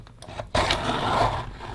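A rough grinding scrape starts abruptly and continues steadily, a gritty rasping turn of a sharpener working on a soft pencil, fairly close.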